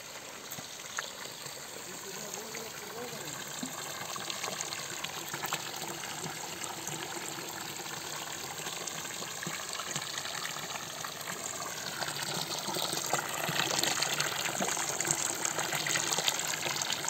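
Clear mountain spring water in northwestern Pirin flows steadily as a continuous close gush and trickle, growing slightly louder toward the end.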